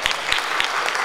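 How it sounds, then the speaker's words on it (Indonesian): A brief burst of audience applause at an Indonesian diaspora congress, a few distinct claps standing out over a dense clapping wash. "Tepuk tangan."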